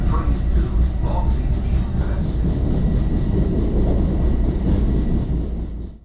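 A Long Island Rail Road commuter train runs through a tunnel under the East River from Manhattan toward Queens, a loud, steady rumble and roar that holds evenly before fading at the end.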